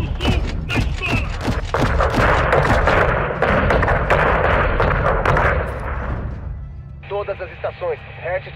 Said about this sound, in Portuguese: Estão atirando na gente do sul, na escola!